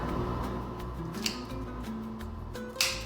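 Cigar cutter clipping the head of a cigar, giving a couple of short crisp snips, the sharpest near the end, over a steady low background hum.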